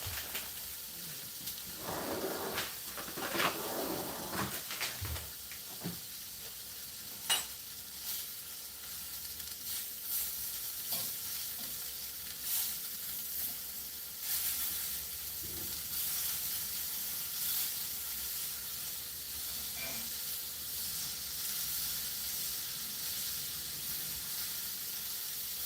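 Trader Joe's chopped onions cooking in a dry pan with no oil, a long steady hiss and sizzle with some scattered crackles early on, moderately loud and without talk.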